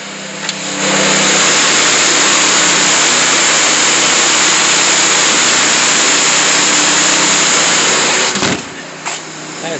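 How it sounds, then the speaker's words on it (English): A small go-kart engine runs steadily and loudly for about eight seconds, a dense continuous drone with a faint hum underneath, then cuts off abruptly near the end, leaving a brief quieter tail. "He got him a little go-kart."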